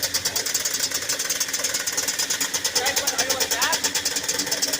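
Yamaha Banshee 350 two-stroke engine idling after a full rebuild, a fast, steady pulsing putter close by, with voices heard partway through.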